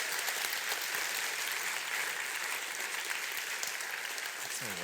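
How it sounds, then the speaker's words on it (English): Steady applause from a crowd in a video game fills the whole stretch, a dense wash of clapping at moderate volume without a break. "Round of applause for Professor Lucy Green."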